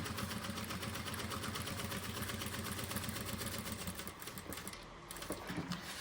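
A sewing machine runs steadily, stitching a quilted matelassé line with a fast, even mechanical whir and rattle. It is close and continuous, with a slight dip near the end, and no voices.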